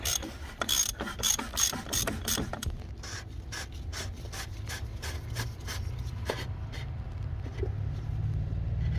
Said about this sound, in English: I'm using a size 36 socket here to loosen this up.